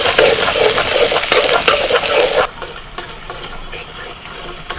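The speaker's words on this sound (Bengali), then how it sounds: "আবারও কড়াইতে তেল দিয়ে দিয়েছি, আর তেলের মধ্যে আমি দিচ্ছি ছোট ছোট করে কুচিয়ে এনে রসুন আর আদা।" Chopped garlic and ginger hit hot oil in a wok, a loud close sizzle with stirring clatter for about two and a half seconds before dropping to a quieter, softer frying hiss.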